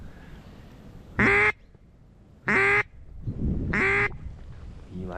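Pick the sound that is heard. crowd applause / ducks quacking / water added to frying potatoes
ducks quacking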